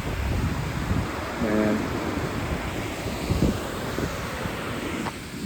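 Wind gusting at Chorrillo del Salto waterfall near El Chalten, Argentina, a rough buffeting rumble on the microphone with surging gusts, brief faint tonal blips and scattered knocks mixed in.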